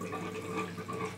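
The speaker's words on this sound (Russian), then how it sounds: "Набирается вода, горячий кран открытый, для того, чтобы выходил воздух." Water running steadily into an electric boiler tank with the hot tap open to let air escape, a continuous close rushing and gurgling hiss with no talk.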